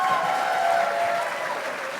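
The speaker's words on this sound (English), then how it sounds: "please give a huge round of applause to Mike Siglain" Steady applause from a comic convention panel audience at NYCC 2019, a sustained wash of clapping at moderate volume that holds evenly throughout without a break.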